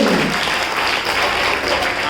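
Audience at a children's poetry gathering clapping in steady, dense applause, loud and continuous throughout with no pauses.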